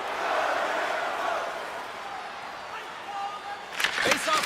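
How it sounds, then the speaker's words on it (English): Arena crowd noise in an ESportsBattle eHockey ice hockey video game: a steady, fairly loud crowd roar building toward the end, with a few sharp clacks over it. "you can feel the energy in this crowd"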